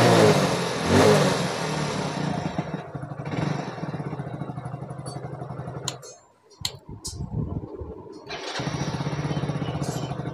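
A BS6 motorcycle engine running after an ECM repair, revving loudly up close, dropping to near silence with a few sharp stutters, then firing back up and running again.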